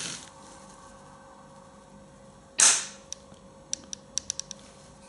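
A Sauer 404 bolt-action rifle dry-fires with a single sharp snap of the action, followed by a few light mechanical clicks over a quiet room hiss.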